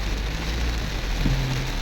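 Heavy rain pounds a mini van at night on the road toward Marbel near Koronadal, a steady dense hiss with low rumbling drumming filling the short stretch alone.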